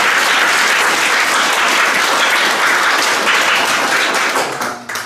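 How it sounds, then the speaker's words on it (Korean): Dense, sustained audience applause at a Korean wellbeing experts' association gathering, loud and close, with many hands clapping continuously before it thins out at the end. "한번 박수 한번 쳐드리죠."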